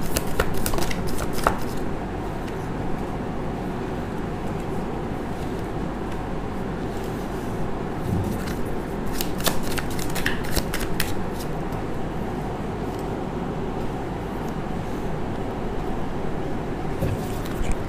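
Tarot cards are shuffled close up, with soft, rapid riffling and flicking in a few clusters over a steady background hum.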